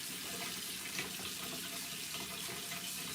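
A bathroom tap runs steadily at a set temperature, a constant soft hiss of flowing water with no voices.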